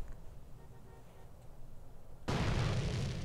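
A missile blowing up in Grand Theft Auto: San Andreas, a sudden loud, broad burst that cuts in after a quiet stretch and holds as a dense roar to the end.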